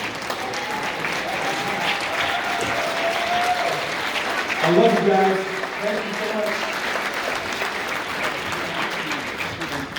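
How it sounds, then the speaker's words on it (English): A keynote audience claps steadily in a round of applause for the speaker, a broad wash of clapping throughout while someone speaks briefly over it. "Give him a big round of applause"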